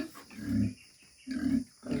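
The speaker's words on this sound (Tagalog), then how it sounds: "Dayon ang among alagang baboy." Pet pigs on a small farm grunting and oinking close by, two strong grunts separated by a short pause and a third starting at the end, with no talking over them.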